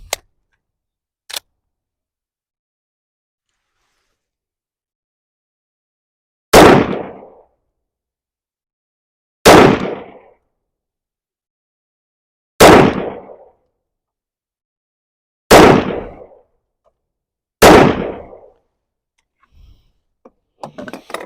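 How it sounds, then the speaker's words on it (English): Pistol shots from an M&P 5.7 and a PSA Rock firing AAC 5.7x28 ammunition: five loud, sharp single reports spaced a few seconds apart after a long quiet stretch, with faint clicks near the start and end. "on the left, I'm going to shoot the M&P"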